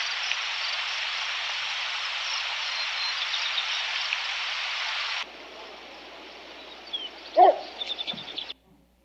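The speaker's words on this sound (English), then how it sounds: "a yearling wolf woofs at her from across the meadow" A yearling wolf gives a few short, muffled woofs from across a meadow, distant and brief, following a long stretch of steady outdoor hiss.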